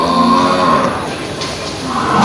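A Jaffarabadi buffalo gives a low, drawn-out moo with harmonic tone, fairly close, over steady background noise; no talking.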